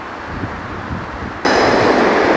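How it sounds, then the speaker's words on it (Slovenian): A train on an amusement park ride at Tivoli in Copenhagen rumbles past on its rails with a steady clatter, then swells suddenly into a loud, close rush of noise. "Vlak je gor, vlak je dol"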